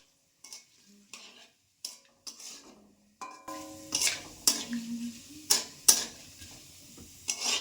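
Bay leaves, whole cumin and black cumin go into white oil in a wok: first a series of separate clinks and taps, then a low sizzle under repeated sharp stirring scrapes.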